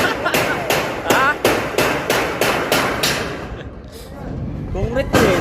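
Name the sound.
hammering with a hammer on concrete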